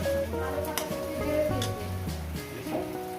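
Chorchori, a mixed vegetable curry, cooking in a pan, a continuous close sizzle and bubble with a few sharp pops and clicks, fairly quiet.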